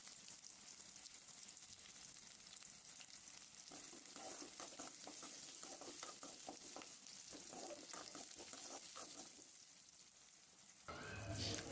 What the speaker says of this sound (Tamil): சின்ன வெங்காயம் முழுசாக தான் போடணும். அதை போட்டு நல்லா வதக்குங்க.